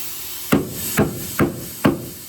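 Four sharp hammer blows on metal, evenly spaced about half a second apart, close and ringing briefly.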